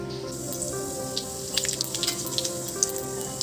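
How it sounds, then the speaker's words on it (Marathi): Cumin and mustard seeds crackle and sizzle in hot oil for a cauliflower dish, with a steady frying hiss and scattered sharp pops clustering toward the end. "गरम तेलामध्ये जिरे आणि मोहरी टाकलेली आहे"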